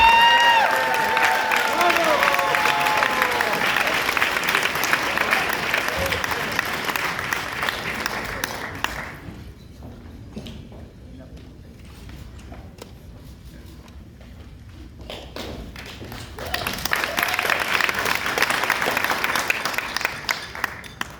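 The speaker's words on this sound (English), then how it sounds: "help me welcome to the stage, with a thunderous round of applause" A gala audience at the National Kidney Foundation New York event applauds an award recipient, sustained dense clapping from a large crowd that drops away briefly and then swells back.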